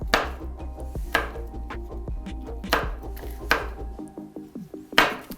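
A knife thinly slices about eight or nine olives on a cutting board, producing a quick, regular series of soft taps with a few louder, sharper chops spaced throughout, close and clear with no talking.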